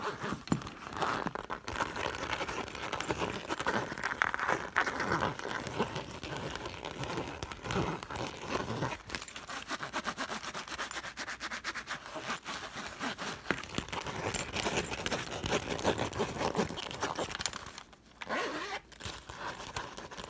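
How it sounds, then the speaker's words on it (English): Continuous close scratching and rasping on textured plastic, brisk and steady for a long stretch with a few brief pauses. "I just love this plastic scratching sound."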